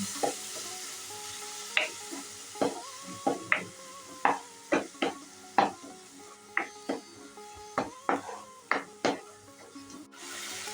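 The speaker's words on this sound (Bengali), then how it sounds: "সামান্য একটু জল দিয়ে দিচ্ছি এখন ভালো করে মশলাগুলো কষিয়ে নেব" Spice paste of turmeric and Kashmiri chili powder with a little water being stirred and fried in oil for a squash curry, a soft steady sizzle punctuated by a dozen or so sharp spoon scrapes and clacks against the pan at a regular rhythm, close up.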